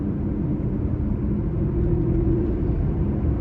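A steady, deep engine rumble fills the clip, a constant low growl from a 2014 Aston Martin Vanquish running close by in sport mode, with no pauses.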